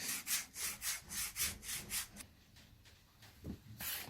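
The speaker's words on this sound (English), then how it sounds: "So what you will do now is that you will carefully get the sandpapers ready" Sandpaper rubs back and forth along the edge of a Birkenstock footbed in about nine quick, even strokes, close up, then pauses briefly before one more stroke.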